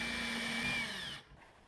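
A power drill run in reverse whines steadily as it melts a hole through plastic trim while fitting a backup camera to a 2013 Ford Mustang, then winds down abruptly.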